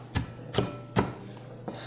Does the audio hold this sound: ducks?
no